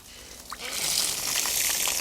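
Water running over a plastic pool filter part being rinsed, a steady close hiss and splash that swells after a soft start and holds for about two seconds.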